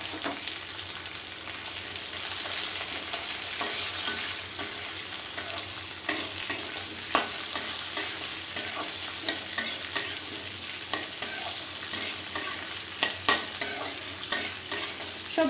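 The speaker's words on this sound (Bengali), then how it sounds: "সবজিগুলোকে আমাদের 2-3 মিনিট ধরে নাড়াতে হবে।" Onions and capsicum fry in a pan of browned garlic for chilli chicken. A constant sizzle runs under a spatula stirring and scraping in a steady rhythm, close by, with no talking.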